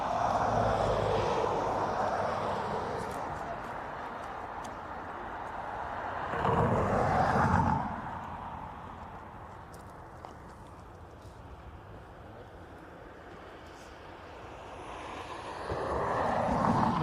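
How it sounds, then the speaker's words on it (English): A Finnair airliner bound for Helsinki taxis at Dublin Airport, its engines a steady broadband roar with a louder swell passing around the middle and rising again at the end, heard from a distance outdoors. "Next one to take off is that Finnair to Helsinki, still taxiing down."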